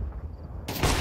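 Loud gunfire from a shooter video game erupts suddenly after a quieter moment, a dense burst of shots filling the last part.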